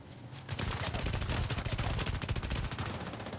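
Rapid bursts of automatic gunfire in a PvP match of the video game The Division 2: loud, close, fast-repeating shots that run almost continuously after a brief quiet start.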